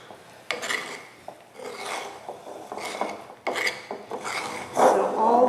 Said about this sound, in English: Carefully stir it until it's all combined. Sure to scrape the edges.